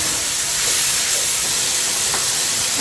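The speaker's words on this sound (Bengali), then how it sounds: "এখন মশলাটাকে খুব ভালো করে কষিয়ে দেব" Spice masala sizzles steadily in hot oil while being sautéed for a rohu fish head curry, a loud, continuous close hiss with no pauses and no talking.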